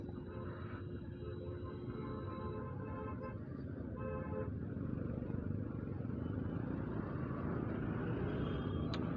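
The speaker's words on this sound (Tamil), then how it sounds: "நம்பவும் முடியல, சண்டே டைமில் இவ்வளோ டிராஃபிக்கா." Heavy Sunday traffic on a city road, heard from a motorcycle, with a steady dense roar of engines and car horns honking repeatedly, one sustained horn early on and more short toots throughout.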